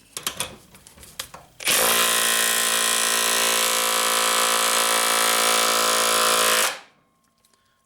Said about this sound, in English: impact wrench on speed setting 3, which is going to be 200 foot-pounds of torque